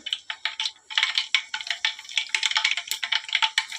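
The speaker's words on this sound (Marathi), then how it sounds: "मोहरी तडतडायला लागले." Mustard seeds pop and crackle in hot oil while vegetables are tempered over a traditional clay wood stove, giving a close, busy run of sharp irregular snaps that comes alone with no talking.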